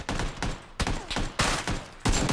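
Repeated sharp shots crack out in a quick uneven series, about six loud reports each trailing off briefly before the next.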